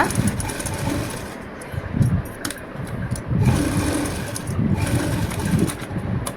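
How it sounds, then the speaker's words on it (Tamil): A sewing machine runs steadily while stitching piping around the neckline of a blouse, its motor whirring continuously at close range for several seconds with slight surges, and no one talking. "இப்படி நாலு பக்கமும் அடிச்சுக்கோங்க"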